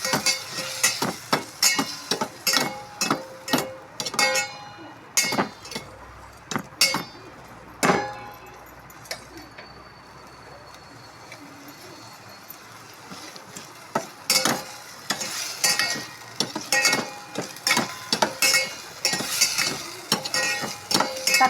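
Chopped tomatoes being sautéed in a pan, with a spatula scraping and clinking against the metal in quick irregular bursts over a soft sizzle, pausing briefly mid-way before the stirring resumes close and clear.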